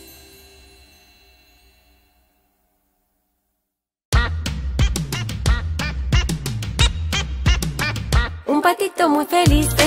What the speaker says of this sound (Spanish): Cuac, cuac, cuac, cuac.